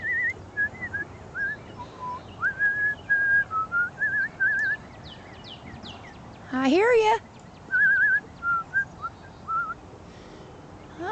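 A person whistles short melodic phrases to birds, with faint bird chirps in the background and a brief rising whistle or call midway; a voice speaks briefly.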